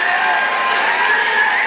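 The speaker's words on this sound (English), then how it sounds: "Keep the claps going." A crowd at the 2019 Yale graduation claps and cheers in a continuous, dense wash of applause with shouts blended in, steady throughout with no pauses.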